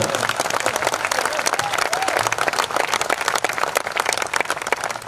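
Loud, sustained applause from an audience at an event in Udaipur, dense clapping filling the whole stretch with a faint voice rising briefly above it.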